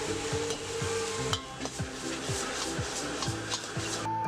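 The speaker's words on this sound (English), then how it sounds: "Drop all your veggie in, add a little oil, and start shaking." Vegetables stir-fry with oil in a wok, a continuous close sizzle with rhythmic scraping and tossing strokes about every half second and no speech.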